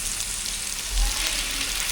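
Ginger garlic paste fries in a large batch for chicken pickle, with a brief, dense, constant sizzle close by and a slight swell partway through. No one talks.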